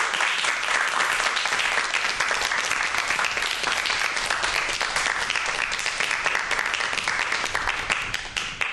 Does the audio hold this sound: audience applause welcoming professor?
yes